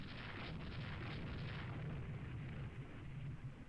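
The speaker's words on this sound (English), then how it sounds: "we are still shooting at the Magenta with our secondary guns" Naval ship guns firing in the naval warfare strategy game Rule the Waves II, a steady distant rumble of low, muffled booms blending into a continuous roar, fairly faint, with no talk.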